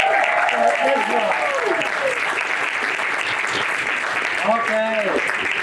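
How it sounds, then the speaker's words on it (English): A theater audience at a Memorial Day magic show claps in loud, sustained applause that fills the whole stretch, with some voices and tones mixed in. "another big round of applause for Ezra"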